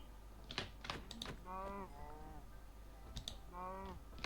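Cows in the Minecraft modpack From The Fog moo twice in long, low drawn-out calls, heard over keyboard tapping and clicks.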